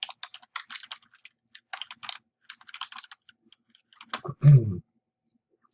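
Close, quiet keystrokes tap out assignment instructions on a computer keyboard in uneven bursts, followed by a single louder thump.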